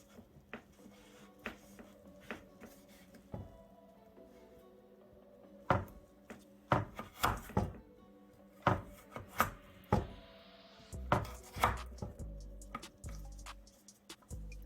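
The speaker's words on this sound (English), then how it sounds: "So I just cutting up the carrots in strips." Knife slicing carrots into strips on a board, irregular crisp chopping knocks and scrapes, sparse at first then a busier cluster of cuts, close and with no talk.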